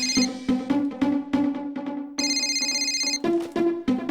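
A telephone rings in a TV sitcom scene: a loud, electronic, bell-like ringtone of repeated bursts, each with a short gap, then a longer sustained tone before the bursts resume. It is close and clear, with no talking.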